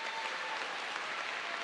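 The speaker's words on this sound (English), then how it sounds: "So give them a round of applause" Faint, brief audience applause for graduates at a high school early college graduation ceremony, a soft even wash of many hands clapping at a distance.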